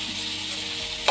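Soybean curry with chopped tomato and green chilli sizzles gently in a pan over a low flame, a soft, steady frying hiss with a faint stir at the end.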